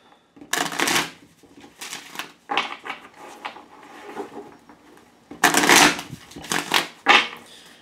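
Playing cards are shuffled up close in several quick riffling bursts with short pauses between them, crisp and fairly loud.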